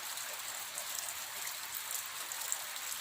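Steady early-morning rain falling outside a house, a dense even hiss of drops on surfaces with no breaks, fairly close and constant throughout.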